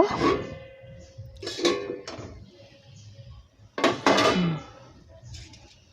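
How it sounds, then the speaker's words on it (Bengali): A metal lid comes off a cooking pot of radish and small fish, with a couple of clanks and clatters of cookware among quieter kitchen noise. "এখন আমি ঢাকনাটা তুলে নেব।"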